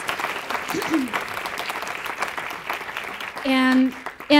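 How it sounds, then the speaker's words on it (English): An audience applauds the venue at an evening arts event, with steady clapping for several seconds before a voice cuts in near the end. "Please let's give a round of applause to the MOPA,"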